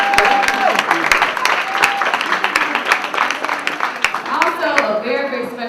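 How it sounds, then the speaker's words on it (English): An audience at a television show taping gives a round of applause, with steady, dense clapping throughout and voices mingled in. "Please just give her a round of applause."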